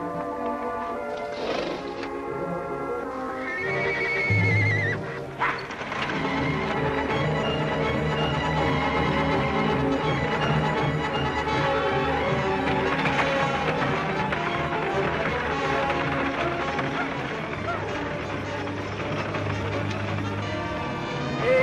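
Horses whinny as a buckboard wagon is readied in an old western television episode, a brief neigh early on, nearly buried under continuous orchestral music that runs throughout.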